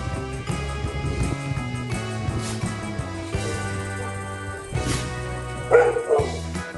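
A dog barks at home in a Thai household, giving repeated close yips and bow-wow barks with a brief whimper, loud and fairly continuous.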